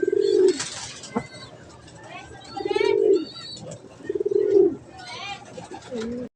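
A racing pigeon, handled during race preparation, gives close, repeated low coos in three or four evenly spaced bursts, with faint chirps and rustling in the background.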